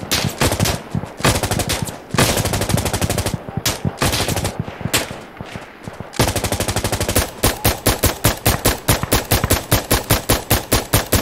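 Sustained machine gun fire in the video game Insurgency Sandstorm comes as long, dense rapid bursts, loud and close, with a short lull midway before another extended rhythmic volley.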